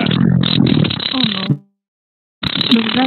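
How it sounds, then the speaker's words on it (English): A long, wet, sputtering fart comes through a voice chat, loud and low-fidelity for about a second and a half, then cuts to silence before another burst of noisy sound. "That has gotta be the wettest, stinkiest fart I've ever heard in my life."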